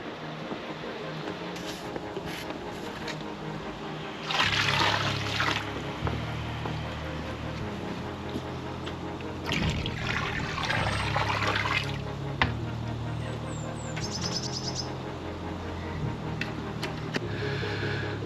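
KMA water conditioner is poured into a koi fish pond, with two gushing splashes standing out over a constant trickle and bubbling of pond water. The sound is moderately close and there is no speech.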